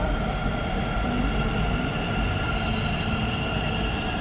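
A metro train on the move, with a steady loud rumble of wheels on the rail and a faint high squeal running through it, and no voices.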